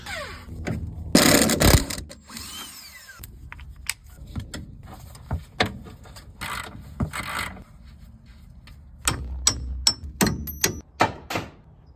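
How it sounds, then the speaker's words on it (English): Tools work to remove a car's control arm after an accident, with ratcheting, clanks and metallic knocks in irregular bursts, one loud rattling burst early and sharp taps near the end. "right now we're gonna take the control arm off"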